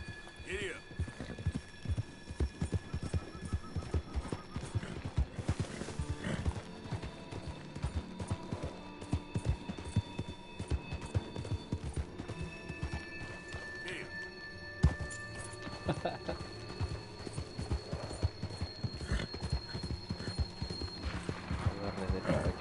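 Horse hooves clip-clop in a quick, steady rhythm, with an occasional whinny and a faint hum beneath, continuous and fairly close at low volume.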